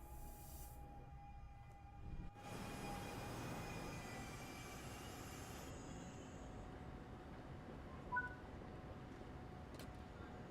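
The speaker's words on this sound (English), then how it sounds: "I'm getting on the train now." A train rumbles in Train Sim World 6, a steady low rolling drone with a faint whine, a brief swell and a shift partway through, moderately quiet and without talking.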